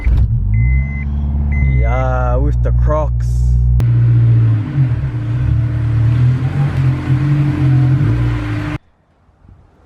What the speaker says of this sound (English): let's move the car in and then we start all that stuff